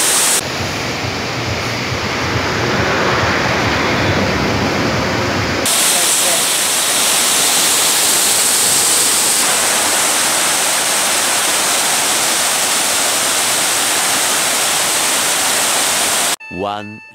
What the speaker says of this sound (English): And the falls is right there. There. That's the Deva Thura Falls and that's the highway.